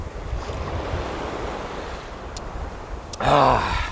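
Mediterranean sea waves wash against the shore in a steady, rushing hiss with wind noise, ending in a brief louder burst that may be a voice.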